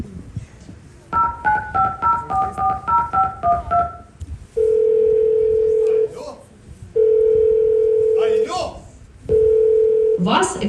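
A telephone line to a support service: a rapid series of dialing tones, then three long, loud steady ringback tones separated by short gaps, with faint background sounds between them.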